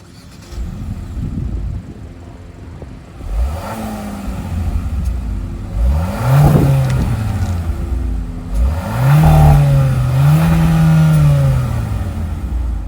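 A turbocharged 1.6-liter four-cylinder in a 2025 Hyundai Kona Limited AWD is revved several times, each blip rising and falling in pitch over a steady idle, loud and close with no talk.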